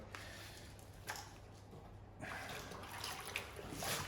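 The bare back of a sanding block is wiped over wet, freshly flatted car paint to squeegee the water away. Faint, soft wet swipes and squishes come in a few short strokes, quiet and close.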